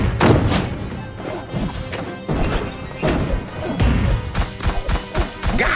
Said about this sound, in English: Goblins don't look at explosions!